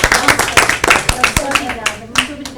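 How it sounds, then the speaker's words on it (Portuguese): A few people clap in an uneven patter for a couple of seconds, close by, with voices talking over the claps. "uma salva de palmas"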